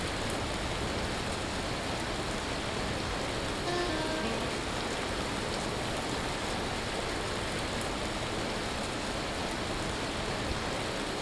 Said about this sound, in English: Hopefully I don't die out here from a hailstorm.